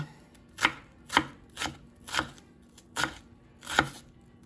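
A knife chops through an onion on a cutting board, giving six or seven crisp, evenly spaced thuds at close range in an otherwise quiet room.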